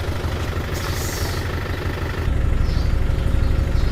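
A van's engine idles steadily on an early morning, a close low rumble that thickens and grows slightly louder partway through, with no talking.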